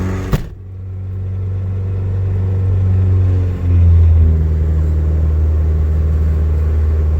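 A built turbocharged LSVTEC engine running on E85 idles with a loud, steady low rumble after a sharp start transient, the pitch shifting slightly as revs change partway through a cold start.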